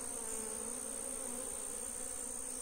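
Honeybees buzz steadily while a hive is transferred from a nucleus box to a standard box, a close, continuous droning hum with a bright high whine, alone and unbroken throughout.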